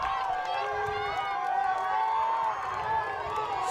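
Crete fans in the stands at a high school varsity boys soccer sub-district final make a continuous crowd roar with scattered shouts, steady and fairly distant, with overlapping voices and whistle-like tones running through it.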